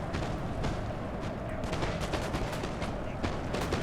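Napoleon Total War battle with musket volleys ringing out as troops are shot, dense crackling rounds of gunfire stacking into irregular bursts, loud and continuous.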